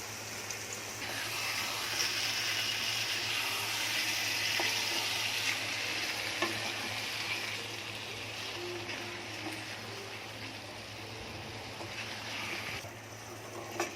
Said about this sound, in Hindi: अभी चिकन को अपना अच्छे से पकाना है अपनी ग्रेवी में।